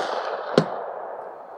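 A single sharp gunshot from ammunition being tested on a range cracks out once near the middle, loud and close, over a steady background hiss, with no talking.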